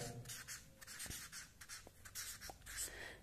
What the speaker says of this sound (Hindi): फिर यहाँ पे मैं लिख देता हूँ